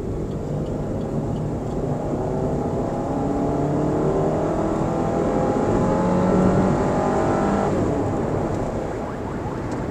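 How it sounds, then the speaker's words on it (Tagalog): A 2024 Suzuki Ertiga Hybrid's engine pulls steadily on the highway with overdrive off, a continuous drone whose pitch climbs gradually under acceleration, heard from inside the cabin, with no voices. "Ganda tumunog ng makina."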